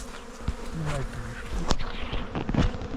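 Honeybees swarm around an opened yellow hive at an apiary, a dense, steady buzzing that fills the whole stretch, close and fairly loud, with occasional louder passes of single bees near the ear.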